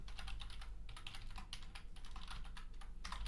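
Someone types steadily on a computer keyboard, a quiet, continuous patter of key taps with no voice over it.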